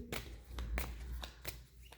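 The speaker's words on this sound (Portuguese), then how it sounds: "Vamos clarificar aqui agora com o baralho da Dona Maria Padilha." A deck of fortune-telling cards being shuffled by hand, giving several quick papery riffles and taps in close succession, near and moderately loud with no talking.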